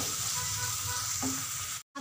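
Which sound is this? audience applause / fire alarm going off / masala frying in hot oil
masala frying in hot oil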